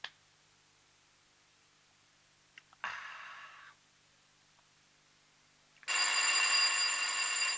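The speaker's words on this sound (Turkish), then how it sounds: "Kız Zehra, baksana şu telefona." A telephone bell rings indoors in a 1986 Turkish film scene, a short burst followed by a louder sustained ring, with quiet room tone between.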